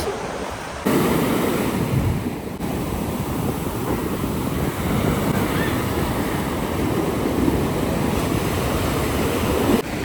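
Roaring high-tide sea at Gopalpur beach in Odisha, with big dangerous waves crashing in a loud, continuous wash of surf and wind buffeting the microphone.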